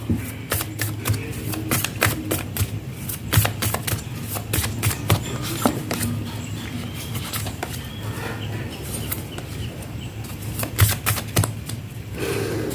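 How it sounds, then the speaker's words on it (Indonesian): Tarot cards being drawn and shuffled during a reading, a steady run of crisp riffling and sharp card snaps close up, continuing for several seconds with no talking. "Aku akan tarik beberapa kartu."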